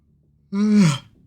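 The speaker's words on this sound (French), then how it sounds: "Premier bâillement de la vidéo." A single human yawn, a short voiced exhalation that rises and falls over about half a second, close and clear against near silence.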